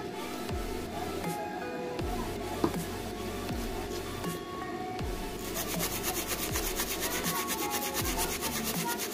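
A normal brush scrubs mobile phone battery terminals with thinner, giving steady close rubbing and scratching strokes in a repeating rhythm, with occasional light taps and no talking.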